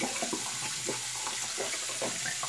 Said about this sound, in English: Let me rinse this right there.